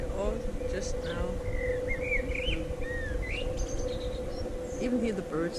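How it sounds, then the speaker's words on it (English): Several birds chirp and sing with bright whistled calls, over a steady hum and low background noise. "Even hear the birds singing."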